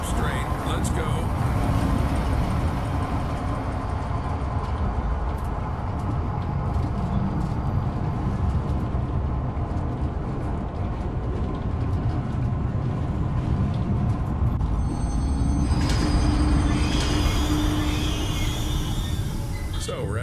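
A train starts up and rolls along in the video game Zoochosis, giving a continuous loud rumbling ride noise with a brighter rattling swell near the end.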